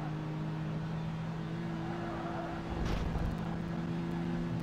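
Racing car engines from the Project Gotham Racing 2 video game drone steadily during a coupe series race, then swell louder with a brief rush near the end.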